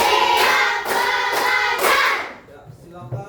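Fifth-grade pupils clapping in unison during a counting clap routine, a quick run of four or five loud, rhythmic group claps that stop abruptly, followed by faint murmuring.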